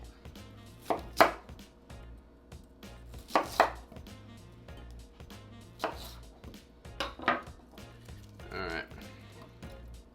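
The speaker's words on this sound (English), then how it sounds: "So I'm gonna chop one of these onions up a little bit more." Knife chopping an onion on a cutting board in a home kitchen, heard as a few short bursts of quick, close chops spaced over several seconds, with a low steady hum underneath.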